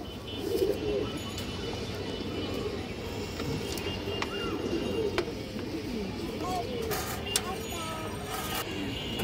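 Domestic pigeons, including a stone-eyed hen, coo in repeated low throaty calls over a steady background hum, with occasional sharper clicks.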